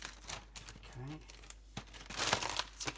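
A plastic Ziploc bag crinkles in short, scratchy bursts, close by and fairly loud, with a person talking in between.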